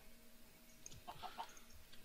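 Chickens on a farm in the video game Arctic cluck in a quick, faint burst of a few short calls over a quiet background.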